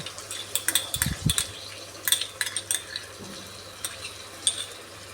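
Katla fish curry with yogurt is sautéed in a pan, heard as a soft low sizzle under intermittent metal spatula clinks and scrapes against the pan, close and moderately quiet, without talk.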